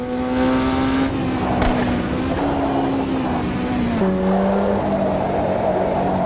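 A Formula Junior race car in the Automobilista 2 racing game drones loudly and steadily, its engine pitch shifting through gear changes, with one sharp crack that could be a backfire.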